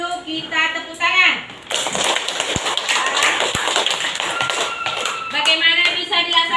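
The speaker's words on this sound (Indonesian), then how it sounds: "Tanda kita setuju, kita tepuk tangan." Classroom children clap their hands together in agreement, a burst of scattered, overlapping clapping lasting a few seconds, framed by a voice speaking before and after.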